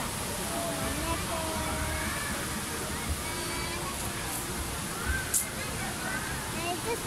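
Steady rush of real water pouring down the indoor waterfall at Jewel Changi Airport in Singapore, a constant broadband roar under people talking and crowd murmur, with a few brief clatters.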